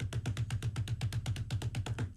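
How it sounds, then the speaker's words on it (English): Short, choppy footsteps from football offensive linemen, a rapid even rhythm of about fourteen quick steps in two seconds, close and steady with no talk. "Short, choppy steps."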